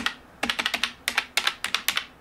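Keys clack on a solid, non-squishy hybrid-style computer keyboard in quick bursts of crisp, close taps separated by short pauses, with no voices.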